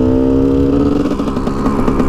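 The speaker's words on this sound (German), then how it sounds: "wenn du Gang drin hast, stehst, die Kupplung ziehst, du merkst halt, wie die Drehzahl weniger wird, fast ausgehen" A KTM 250 EXC dirt bike engine with a dragging clutch that does not fully disengage runs loud and close, its steady drone wavering and sagging slightly in pitch as the revs drop, with no voices.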